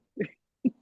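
A dog barks twice, two short, fairly faint woofs about half a second apart with quiet between them.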